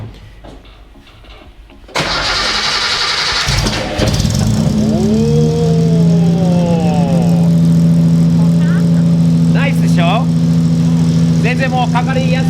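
Datsun 240Z engine with a Hitachi carburetor cranking with a whir, then catching and settling into a loud, steady idle close by, with people talking over it.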